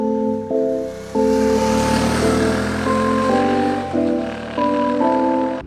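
A Yamaha Tenere 700 motorcycle exhaust drones steadily and fairly loudly, its pitch stepping up and down several times as the engine speed changes.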